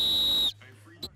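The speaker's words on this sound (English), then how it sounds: "On the whistle." At football practice, a coach's whistle gives one sharp, loud, sustained blast that cuts off abruptly, followed by faint background voices and wind.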